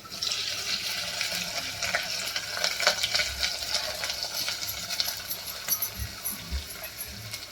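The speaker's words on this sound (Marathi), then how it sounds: "लसूण थोडासा भाजल्यावर आता कांदा टाकूया।" Chopped onion hits lightly browned garlic in hot oil for a Khandesh patodya dish, giving a steady close-up sizzle with scattered clinks of a spoon stirring the pan, and no voices.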